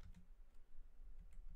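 Faint typing on a computer keyboard, scattered soft key clicks in a quiet room, with no talking over them.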